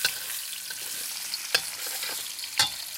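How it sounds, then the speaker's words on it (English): Two eggs fry in a pan for salmon fried rice, giving a bright, steady sizzle with a couple of sharp scraping stirs, close and alone without any voice. "You cook the eggs, you want to make sure they cook before you put any other things in it."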